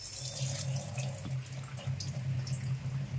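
Running water pours steadily from a tap into a vessel of urad dal for washing, a continuous close splashing stream with no talk.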